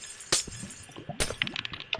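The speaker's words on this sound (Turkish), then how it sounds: "Haydi şimdi camı kırıp karşıya geçebilirsiniz" Glass breaks twice in a video game, two sharp shattering crashes about a second apart, followed by small clinks and tinkling debris, fairly quiet overall.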